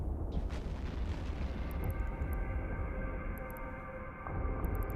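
Torpedoes firing and exploding during a fleet battle in EVE Online, with golem ships involved, heard as a dense, continuous rumble of booms and bursts with a few brief high clicks, steady and loud throughout.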